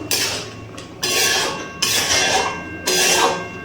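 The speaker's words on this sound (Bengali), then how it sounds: "একটু নাড়াচাড়া করে নিচ্ছি।" A metal spoon knocks and scrapes inside a pot while palak masoor dal with mustard oil is stirred, giving four bright clanks at an irregular pace, each followed by a brief scraping ring, close and clear.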